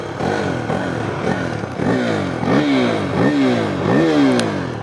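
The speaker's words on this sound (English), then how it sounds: "the engine sound is as good as it gets for this class" A 2022 KTM 390 Duke single-cylinder motorcycle revs repeatedly while riding, its pitch climbing and dropping in four or five clear sweeps, loud and close with no voices.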